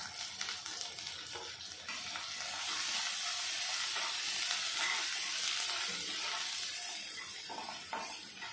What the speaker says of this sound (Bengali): দিয়ে দিয়ে ভালো করে নেড়ে চেড়ে নেবো। মশলাটা সুন্দর করে কষে নেব।